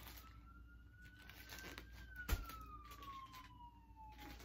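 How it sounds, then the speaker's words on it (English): A distant police car siren wails in a slow rising and falling tone, faint behind quiet room noise, with a single brief knock midway. "the sirens are going"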